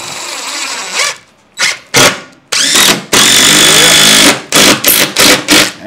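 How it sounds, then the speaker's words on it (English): A power drill drives screws into cedar trim boards on a cabin, with repeated loud whirring bursts of varying length separated by short pauses, close up. "I'm not putting but two or three screws in them."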